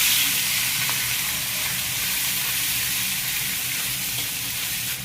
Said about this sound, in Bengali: ভাজাটা হতে থাকবে, তারপর আমরা নামিয়ে নেব।